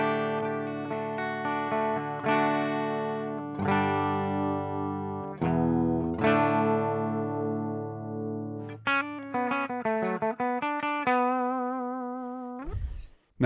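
Gibson SG played through the normal channel of a Marshall SV20H amp set around 2 o'clock, a plexi-style tone at lower volume; ringing chords and single notes played alone, clear and close, ending with a final strum.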